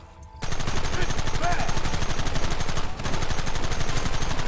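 Rapid gunfire in Red Dead Redemption, loud dense volleys of shots crackling in quick succession, with a brief dip before the shooting resumes at full intensity.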